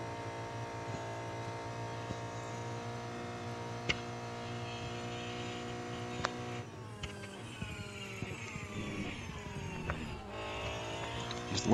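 Race car engine in a racing video game at Le Mans at night, a steady loud drone with harmonic whine that shifts into falling, wavering tones as the car brakes, with small clicks throughout.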